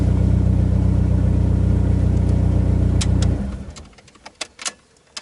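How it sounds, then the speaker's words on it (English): A Dodge SRT4 car engine runs with a steady, loud idle drone, then shuts down partway through, leaving quieter clicks and small mechanical sounds. "Start the car."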